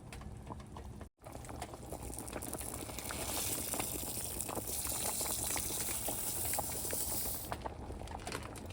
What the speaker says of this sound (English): So in this pot, we're gonna put 1 cup of parboiled rice.